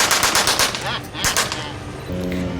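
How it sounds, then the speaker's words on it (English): Bursts of automatic fire from a copy of a Vickers .303 machine gun, a World War I era aircraft gun, shown at an airport barnstorming carnival; rapid, loud chattering volleys fill most of the clip, with a steadier engine-like drone toward the end. "This is a Vickers copy of a Vickers 303 machine gun that was used back in that era."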